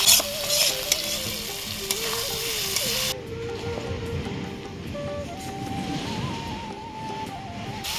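Fried potatoes and green chillies sizzling in a pan for aloo dum, a continuous close frying hiss with occasional stirring scrapes, and no talk over it.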